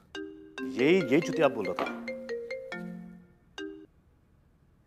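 A mobile phone ringtone plays a bright, repeating electronic melody of clear tones close by, with a person speaking briefly over it.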